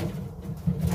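Birds held in nest boxes during canker treatment make low, muffled cooing sounds close by, with faint shuffling and no speech.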